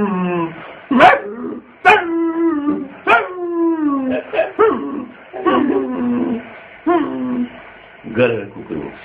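A human voice imitates a dog, giving a run of yelping barks and drawn-out howls and whimpers in a loud, close comic routine, with short gaps between the calls.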